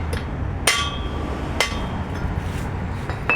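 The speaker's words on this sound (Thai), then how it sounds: "ตอกเข้าไปใช้ไขควงตอก ใส่แล้วต้องตอกเน้นมันเข้าไปอีก" Metal hammer blows drive a screwdriver against the center driveshaft universal joint bearing of a Toyota Commuter van: two sharp, ringing close strikes about a second apart, with a few fainter taps around them.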